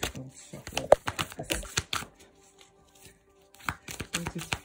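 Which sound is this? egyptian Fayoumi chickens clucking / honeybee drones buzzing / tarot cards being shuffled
tarot cards being shuffled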